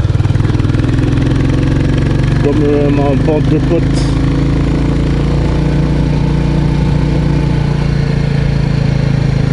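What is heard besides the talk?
Royal Enfield 350 Bullet motorcycle engine while riding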